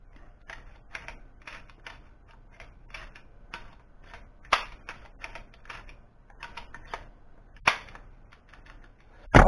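A modified Crosman 2240 air pistol fires rapidly, giving a quick run of sharp, close clicks and snaps with a few louder cracks standing out.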